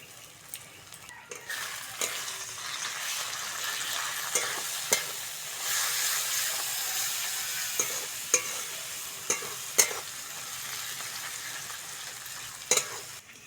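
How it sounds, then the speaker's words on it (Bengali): Spice paste of onion, garlic paste, ginger paste, chilli powder and turmeric sizzles in a pan for rohu fish kalia, a steady close frying hiss with scraping stirs and occasional clinks. "মশলাটা ভালো করে কষে নিয়েছি"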